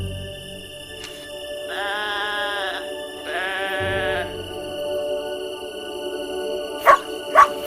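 Two drawn-out, wavering video-game sheep bleats in a row, followed by a pair of sharp short dog-bark blips, over a steady electronic hum.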